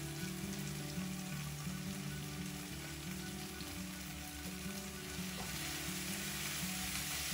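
Masala with chili powder and coriander powder frying in oil for a mushroom curry, a steady, close sizzle with a low stirring hum throughout and no voices.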